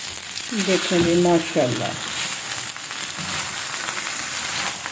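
A raw chicken paratha sizzles steadily in oil on a pan over a slow flame, a constant frying hiss that continues after it is flipped, while someone speaks briefly over it.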